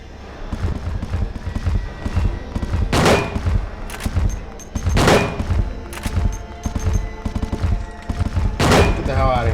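Shotgun blasts in Silent Hill 2, three or four loud, sharp booms spaced a couple of seconds apart over a rumbling, busy game background.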